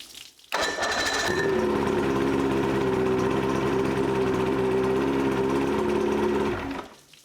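A 1976 Evinrude 115hp outboard, dosed with carb cleaner in the cylinders, is cranked over by its starter for about six seconds. The whirring drone is loud, steady and close, then it stops without catching.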